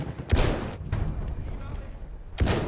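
Two sharp, booming rifle shots about two seconds apart in the WWI shooter Battlefield 1, heard close over a murmur of game ambience and faint voices.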